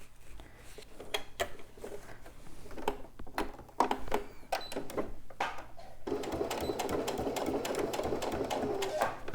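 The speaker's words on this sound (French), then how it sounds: "Je vais retourner et je vais simplement suivre ma précédente ligne de couture" A sewing machine stitches along an earlier seam line on a fabric jewellery pouch. The first part has scattered mechanical clicks and stops, then a steady, close whirring run of stitching lasts to the end.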